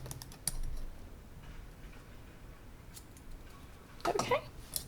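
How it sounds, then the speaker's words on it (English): Scissors snip through long hair during a home layered haircut, giving a few quiet, crisp cuts at the start and a short cluster of snips near the end, faint and close. "Just gonna cut a little bit more."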